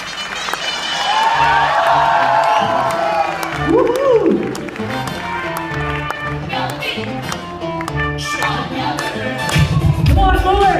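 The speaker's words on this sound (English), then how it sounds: "One applause for them," Audience applause and cheering at a fashion show, with crowd noise and music running under a live MC's announcing voice, loud and continuous throughout.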